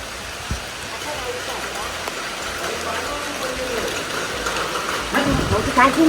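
Dense rain hisses steadily throughout, a constant wash of drops on surfaces, with a few thumps and a louder clatter near the end.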